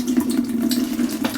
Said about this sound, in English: Put an adapter on there and drain it.